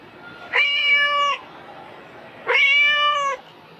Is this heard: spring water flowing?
no